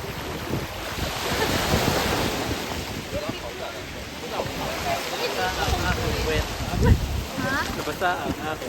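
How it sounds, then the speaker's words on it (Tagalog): High ocean waves surge and crash around a boat at sea off Puerto Princesa, Palawan, with heavy wind buffeting the microphone and people talking over the churning water. "Sobrang taas ng alon!"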